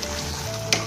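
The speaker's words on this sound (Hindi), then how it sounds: "इसको अच्छे से फ्राई कर लेते हैं" Ghee and masala frying in a pan for dum aloo, a steady close sizzle with a brief louder spatter near the end.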